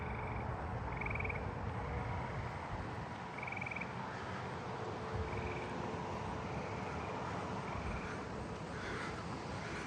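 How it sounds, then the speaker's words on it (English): Tree frogs calling at night in a neighbourhood, repeated short trilling pulses at a moderate distance over a constant wash of insect and ambient noise, no talking. "the tree frogs are really loud from this angle"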